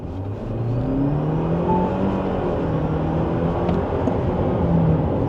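The 2-litre petrol engine of a GWM Cannon Alpha Hi4T plug-in hybrid pickup pulls steadily from 30 as it accelerates, a sustained rising drone heard from inside the cab, with road noise and no talking.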